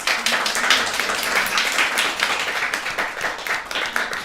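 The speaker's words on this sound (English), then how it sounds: "Let's give them a round of applause" An audience applauds panelists at an event in an office on the 46th floor of the Empire State Building in New York City: steady, dense clapping from many hands, close and sustained throughout.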